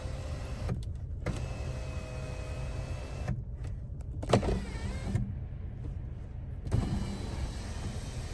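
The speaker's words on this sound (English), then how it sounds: "You've got there your glass sunroof. It's got an electric blind." Electric blind on the glass panoramic sunroof of a 2020 Alfa Romeo Giulia running with a steady motor whine, pausing and restarting several times with soft clicks, heard alone inside the cabin.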